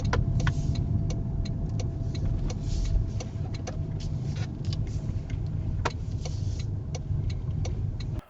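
A car drives slowly into a parking area along a narrow road on a driving exam route, its engine a steady low hum inside the cabin, with faint regular ticks above it and no talking.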